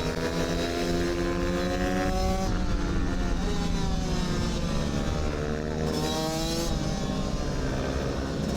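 A two-stroke supermini race bike engine screams continuously around a lap, its high rasping note rising and falling through gear changes and throttle shifts, loud and close throughout with no talking.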